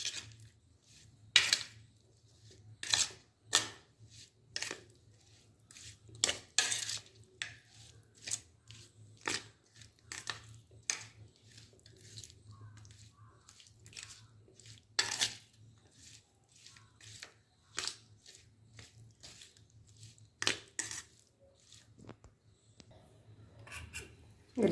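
Raw tomato and onion chutney being stirred and mixed by hand in a bowl, giving repeated short wet clinks and scrapes in an irregular rhythm, close and fairly quiet over a low steady hum.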